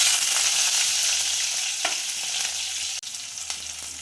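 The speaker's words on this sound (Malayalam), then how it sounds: "ഇനി അതിലേക്ക് നമുക്ക് മുളകിട്ട് കൊടുക്കാം." Chillies hit hot oil in a pan and set off a loud, continuous hiss of frying, close and steady, with a couple of faint stirring clicks and no voices.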